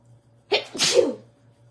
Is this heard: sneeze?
yes